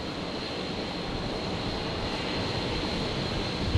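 Steady broad roar of an airliner landing on runway 01 left at Brisbane International Airport, a continuous even wash of engine and air noise with no voices.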